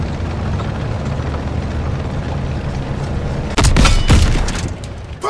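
A tank is hit and destroyed in Call of Duty: WWII: after a steady rumbling battlefield bed, a sudden loud explosion bursts out, followed by a second blast and a brief fading roar.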